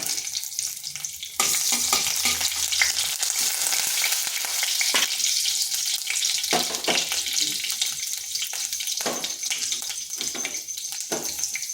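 Bay leaf, slit green chilli and five-spice seeds crackle and sizzle steadily in a spoonful of hot oil, a loud continuous frying hiss with occasional stirring clicks and no talk.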